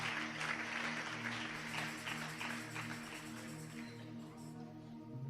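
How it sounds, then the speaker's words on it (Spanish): Loud applause fills a church service, a dense steady wash of clapping from the congregation layered over sustained instrumental tones that continue throughout and thin out slightly near the end. "Un aplauso fuerte al Dios que vive."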